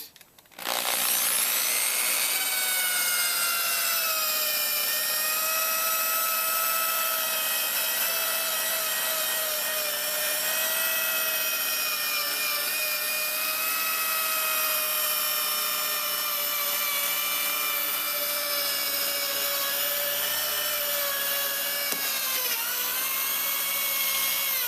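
Power sander fitted with a P800 abrasive disc working a foggy car headlight, a steady high-pitched whirring drone that holds without a break for over twenty seconds, close by and alone, no speech.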